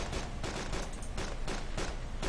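Rapid gunfire in the video game DayZ, a dense stream of loud repeated shots in quick, slightly uneven bursts filling the whole stretch without a pause.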